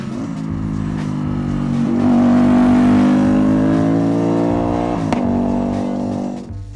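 A Can-Am Spyder three-wheeled motorcycle drives by nearby, its engine note rising as it accelerates, holding a loud sustained tone, then dipping briefly with a gear change before rising again; no talk.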